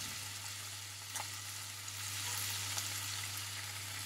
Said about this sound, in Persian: کمی که تفت بود و رنگ جگر رو تغییر کرد